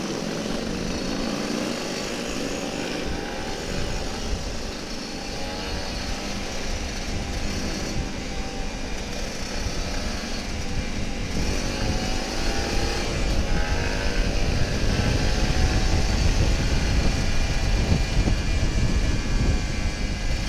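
A Kawasaki Ninja RR 150 two-stroke motorcycle pulls away on a road after rain, its engine a steady, continuous drone that grows slightly louder as it rides off, with broadband wind and road noise throughout.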